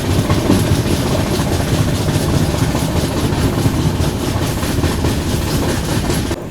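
The Guwahati–Sairang express rolls along rails on a scenic route into Mizoram, a loud, steady rumble with rhythmic clickety-clack beats running continuously throughout.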